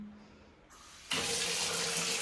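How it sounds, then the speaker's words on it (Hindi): Hot water gushes from a tap into a home bathroom basin, starting abruptly as a steady, loud rushing hiss that continues unbroken to the end. "पानी चला देती हूँ गरम गरम, नहाऊंगी अब"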